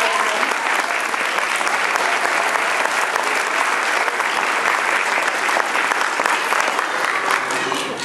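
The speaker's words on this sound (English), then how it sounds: "They deserve a huge clap as well." Audience at a school nativity gives a long, dense round of applause, loud and continuous throughout, fading slightly at the very end.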